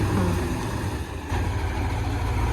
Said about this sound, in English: Starts up the engine again.